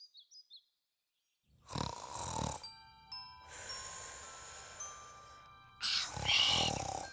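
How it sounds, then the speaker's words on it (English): A loud, drawn-out rasping cartoon snore repeats a few times with quiet gaps between, preceded by a brief tinkling chime. "What can we do to make her quit snoring?"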